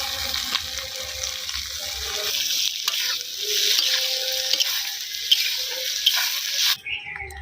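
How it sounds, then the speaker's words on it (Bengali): Oil sizzles steadily around fried cauliflower as chopped onion and tomato go in, with stirring scrapes and a faint watery hiss throughout and a sharp clatter near the end, in a village kitchen on a rainy morning. "ফুলকপি এখানে ভাজা হয়ে গেছে, এরপর পেঁয়াজ কুচি, টমেটো কুচি দিয়ে দেবো।"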